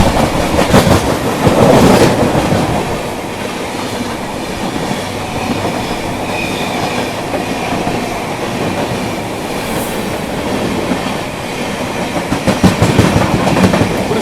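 The Purushottam Express rushes past on an Indian railway line, a loud, continuous roar of coaches with rhythmic wheel clatter, steady throughout and a little stronger at the start and end.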